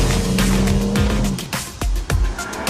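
A BMW M240i with a 3-litre inline-6 accelerates hard uphill through the countryside, the engine note loud and close, with rising tones and quick gear-change dips.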